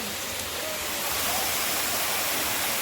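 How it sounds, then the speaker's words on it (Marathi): Waterfall rushing in a steady, loud broadband roar, close and continuous with no talk. "त्या धबधब्यावरच्या परत धबधब्यावर आलोय."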